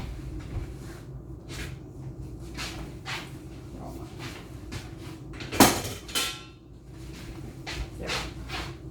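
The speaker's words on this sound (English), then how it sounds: "I'm gonna grab a spatula." Utensils clink and rattle in a kitchen while someone searches for a spatula during taco bake prep, with soft scattered knocks and one sharp clatter midway, fairly quiet and close.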